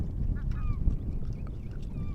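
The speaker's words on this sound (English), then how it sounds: "Seagulls, you bet. Seagulls. This particular type of seagull is a herring gull." Herring gulls calling by the water on eastern Long Island in spring: several short nasal cries and squeals rise over a steady low rumble of wind or surf.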